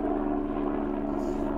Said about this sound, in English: you see it? It's a helicopter